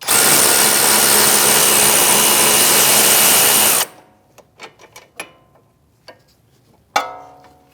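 An electric ratchet whirs continuously and loudly while loosening a rear hub bolt on a Chevrolet Malibu, then stops abruptly, followed by several sharp metallic clicks and clanks of tool handling.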